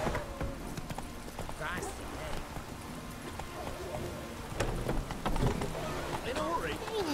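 Hooves of the horse Roach galloping in The Witcher 3 video game: a continuous rapid clip-clop rhythm at moderate level beneath someone speaking, with game sounds mixed in.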